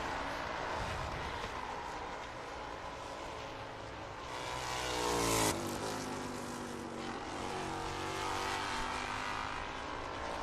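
An F4 race car engine drones at high revs during a race at Barber Motorsports Park, swelling as it accelerates and briefly peaking mid-clip before holding steady at a distance.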